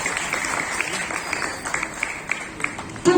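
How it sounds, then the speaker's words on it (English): Audience applause at a school Independence Day celebration for students, a dense steady patter of many hands with crowd noise and talk, swelling louder at the very end. "Can we have one huge big applause for all of them?"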